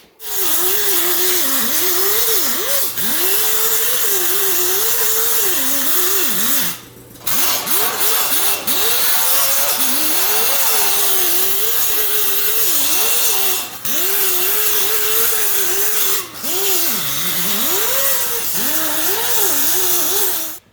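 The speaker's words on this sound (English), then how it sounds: "I just cleaned it all up with a 24 grit grinding disc on my air grinder." Air grinder fitted with a 24 grit disc grinding rusty car body metal, a loud continuous whine with wavering pitch that cuts off briefly near the middle and then resumes, close and alone.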